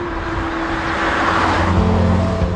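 A Honda CR-Z with a 1.5-litre petrol hybrid engine drives past, a steady engine drone with road and tyre noise, building slightly as it nears, with no voices.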